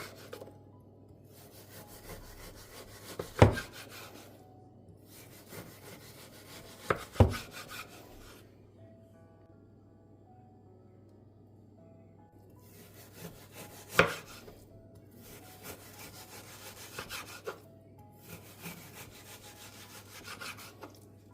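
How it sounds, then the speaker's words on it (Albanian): Knife work on a block of frozen homemade doner meat, with intermittent scraping, rasping strokes in bursts separated by quiet pauses and a few sharp clacks of the blade hitting the board. "Vazhdojmë tani që ta largojmë nylon folin dhe ta prejmë mishin."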